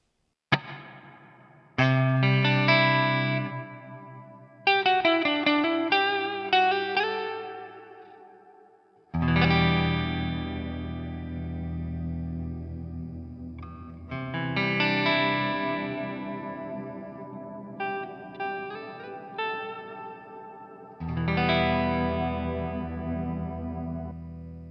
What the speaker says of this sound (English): I can put my dynamic reverb on top of that